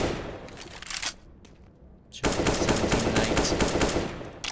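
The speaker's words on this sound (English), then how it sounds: "The bullets just whisk past his head." Counter-Strike gunfire on the Overpass map during an ESL Pro League match: a burst of rapid shots, a brief lull, then a loud, sustained volley of automatic fire.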